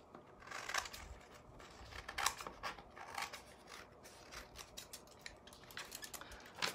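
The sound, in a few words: scissors cutting sheet music paper for tassels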